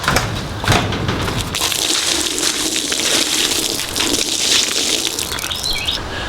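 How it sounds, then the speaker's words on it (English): Milk gushes through a filter into a jar on a homestead, a steady loud splashing pour that runs without a break, with faint bird chirps in the background. "So our milk goes into the jar filtered."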